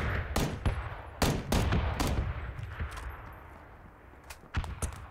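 Gunfire in a shooter video game, with several sharp booming shots and short rattling bursts over a rumbling, echoing battlefield background that slowly fades.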